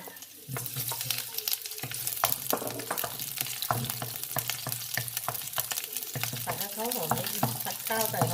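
Small shallots and garlic stir-frying in a pan for fried rice, a steady close sizzle with frequent spatula scrapes and clatter, while someone talks over it.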